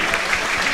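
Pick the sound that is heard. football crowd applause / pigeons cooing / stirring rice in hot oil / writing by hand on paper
football crowd applause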